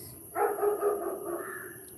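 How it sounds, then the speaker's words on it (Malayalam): A dog barks downstairs in a short burst of two or three muffled, mid-distance barks that trail into a softer whine, with no talk over it. "അത് താഴത്തെ പട്ടിയാണ് വരയ്ക്കുന്നത്"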